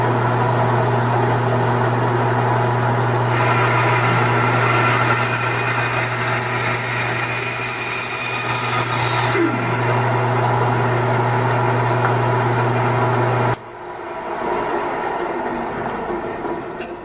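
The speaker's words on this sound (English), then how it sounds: "So I've got my skinniest bandsaw blade installed." A bandsaw fitted with a very thin blade runs steadily and loudly, cutting thin slices from an eight-sided bamboo and purpleheart sleeve. The motor hums constantly as the cut goes on, then the tone drops and the machine winds down near the end.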